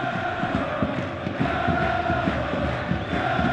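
Crowd of supporters at an Iraqi Stars League football match between Al-Mina'a and Naft Al-Basra in a stadium, a steady dense roar of voices with rhythmic chanting and clapping throughout, no commentary over it.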